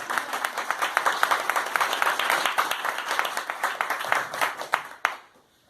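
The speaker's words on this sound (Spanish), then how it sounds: "Un fuerte aplauso para Andri." A small indoor gathering bursts into loud, dense applause for a first-time visitor, steady rapid clapping from many hands that cuts off sharply near the end, leaving a brief quiet tail.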